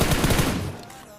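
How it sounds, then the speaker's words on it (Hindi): A short, loud burst of rapid automatic gunfire in the PUBG video game, fired by a bot, trails off into a fading echo. "तो ये बंदा हमें बॉट फायर करके बुला रहा था"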